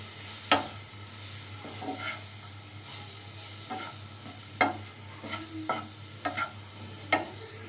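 A spoon stirring vegetable filling with soy sauce, black pepper, coriander powder and salt in a pan, giving quiet scattered scrapes and clinks over a faint sizzle and a steady low hum.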